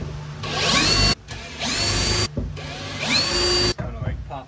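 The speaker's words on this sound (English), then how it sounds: "I'll find that out after I drill these out" A power drill whines in three long bursts, each spinning up with a rising pitch, separated by brief pauses, close and loud.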